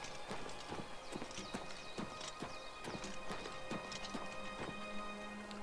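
Steady clip-clop of horse hooves at a walking pace in Oblivion Remastered, fairly faint, with a light background hum and no talking.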